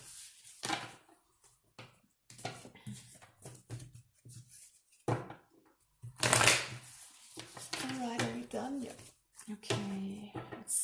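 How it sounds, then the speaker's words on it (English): Tarot cards are riffled and shuffled in several bursts, with soft talking in between and handling noises close to the microphone. "Let's get 2 more shuffles for you,"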